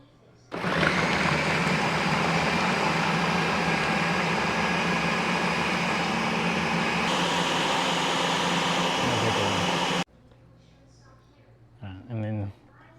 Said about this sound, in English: Now that we got in the food processor, we're just gonna